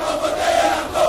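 Large crowd at a presidential campaign rally in Kindu, Maniema province, DR Congo, giving a sustained roar of cheering and shouting that holds steady for about a second with no talk over it.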